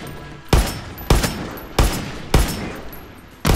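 Gunfire in the video game Far Cry 6 comes as five loud, sharp shots with uneven gaps, each one ringing out briefly before the next.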